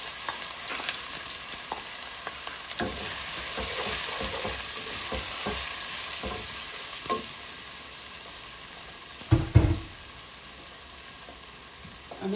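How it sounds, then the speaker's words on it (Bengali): Onion poured into hot oil already holding whole cumin, bay leaves and cinnamon-cardamom powder, frying with a loud, close crackling sizzle, scattered stirring scrapes and one sharp clatter near the end. "এখন পেঁয়াজটা ঢেলে দিচ্ছি।"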